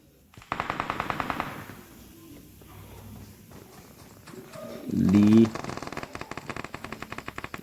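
Rapid bursts of automatic gunfire in a video game rattle in quick volleys, with a louder blast midway and someone talking underneath.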